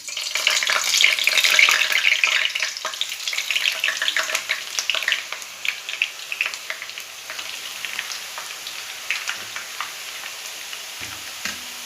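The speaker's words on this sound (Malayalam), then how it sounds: "ഇപ്പോൾ നമ്മുടെ ഓയിൽ ചൂടായിട്ടുണ്ട്. അപ്പോൾ നമുക്ക് ഇതിലേക്ക് നമ്മുടെ മിക്സറിനെ ചുറ്റിച്ച് കൊടുക്കാം." Kerala-style mixture dough pressed into hot oil bursts into a loud, rain-like crackling sizzle that gradually settles into a softer, sparser bubbling.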